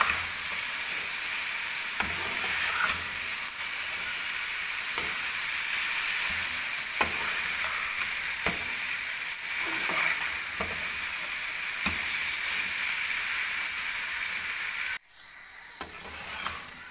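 Chicken and vegetables fry in a pan for macaroni, with a continuous loud sizzle and scattered stirring clicks and scrapes throughout, then a sudden drop to a quieter sizzle near the end as the pan is covered.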